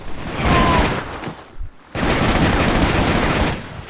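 Loud sustained bursts of automatic gunfire from the video game Shadow Ops: Red Mercury, a dense fusillade that briefly drops out before resuming at full intensity.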